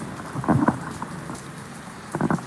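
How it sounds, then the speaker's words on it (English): Rain falling steadily as a soft broadband hiss, with a few low rumbling bursts of thunder, moderately loud and heard with no voices. "as the rain comes down."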